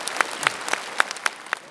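Sparse claps from an audience at a Buddhist enlightenment-day service, only about half a dozen distinct hand claps spaced out in a light, scattered rhythm, with no talking.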